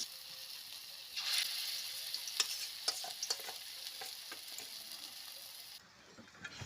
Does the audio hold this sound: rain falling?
no